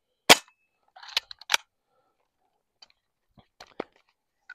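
A Crosman PSM45 BB pistol that keeps malfunctioning gives one sharp close pop, then scattered faint clicks and small mechanical taps in near silence.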